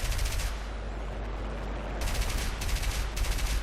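Machine gun fire in a WWII aerial combat video game: rapid continuous bursts of automatic fire, one burst at the start and a longer run in the second half, loud over engine drone, no talking.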